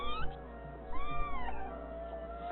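Several cats meow repeatedly in Paris, overlapping wavering cries that rise and fall, close and clear over a low steady hum, with no talking.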